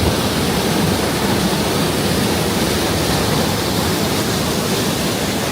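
Loud, steady rushing of a waterfall heard from directly above through see-through metal grates at a Disney park, a continuous close roar of falling water with no pauses.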